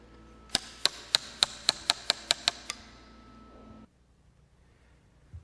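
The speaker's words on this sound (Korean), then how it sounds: "경쾌한 두들김 소리가 높아감에 따라 글자도 점점 생명을 얻기 시작한다." A mallet taps a chisel while letters are carved into a wooden printing block. About ten crisp, evenly spaced knocks sound close and clear, followed by a quiet pause.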